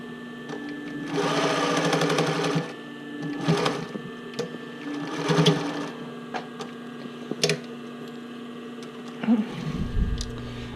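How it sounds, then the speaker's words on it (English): A sewing machine stitches elastic down onto a bra cup for a cup overlay, running in several close, steady bursts of rapid stitching separated by short pauses. "so I stitch that down"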